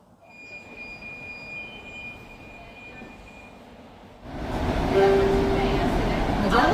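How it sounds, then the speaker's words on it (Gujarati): Inside an Ahmedabad metro train, a quiet cabin hum with a thin steady tone gives way to a loud rising rumble and roar as the train picks up speed. "મેટ્રોમાં બેસી ગયા છે. મસ્ત મેટ્રો છે"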